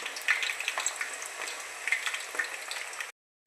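Hot oil bubbles up vigorously in a pan, a dense crackling, spattering sizzle with fine pops throughout, close by, ending abruptly in silence.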